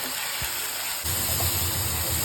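Spice masala with salt and turmeric fries in a pan for a catla fish head curry, giving a steady, fairly quiet sizzle that grows thicker and fuller partway through.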